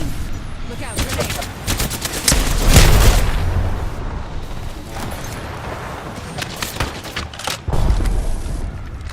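A grenade blows up during an Apex Legends firefight: a loud booming explosion stands out amid rapid bursts of gunfire, with more shots trailing off and a voice speaking briefly.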